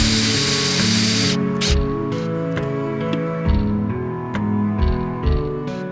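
A power screwdriver drives very fine-head screws into tongue-and-groove wall cladding, with a loud whirring burst followed by short intermittent clicks and knocks close by.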